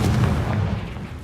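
A Confringo fire spell explodes in the Hogwarts Legacy video game, giving a dense, heavy low rumble that stays loud through the whole short moment with no clear separate hits.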